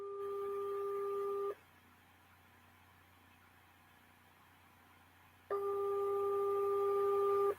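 A telephone call ringing, two long electronic ring tones separated by a silent gap of about four seconds, clear and moderately loud.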